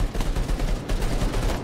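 Rapid gunfire rattles steadily through a co-op firefight in Earthfall, a dense, continuous burst of shots with no pauses and no voices.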